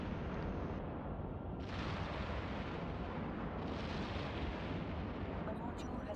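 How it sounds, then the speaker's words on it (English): An explosion strikes a ship in the space game EVE Online, producing a sustained, heavy rumbling roar that stays loud and dense throughout, with brief surges layered in. "the ship recoils from the impact of the explosion as well"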